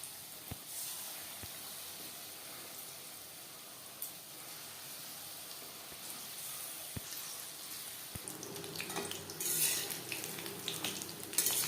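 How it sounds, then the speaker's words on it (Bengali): Steady soft sizzling of pakoras frying in oil over a medium flame, with a few sharp clicks, and a brief clatter of utensils toward the end. "পাকোড়াগুলো ভাজবো মিডিয়াম ফ্লেম"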